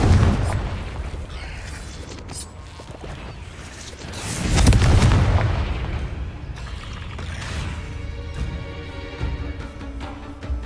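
Confringo fire-blasting spell explosions in Hogwarts Legacy: a deep booming blast swells near the middle amid earlier bursts, followed by crackling debris and a ringing tail, loud and close.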